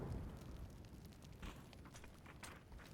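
Grenades going off in a PUBG match give faint, distant muffled booms that roll under a steady low rumble of game ambience.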